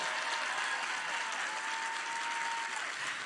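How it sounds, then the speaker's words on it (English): Steady applause from a theatre audience at a live stage show during a gaming convention, a dense continuous wash of clapping that fills the whole moment without a break. "Applaud, applaud."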